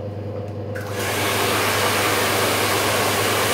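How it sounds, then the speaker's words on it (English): Hair dryer switching up to full power while blow-drying hair to the ends, a close, loud steady whooshing roar that jumps in level after a softer start and holds constant. "till the last bit the dryer has to run"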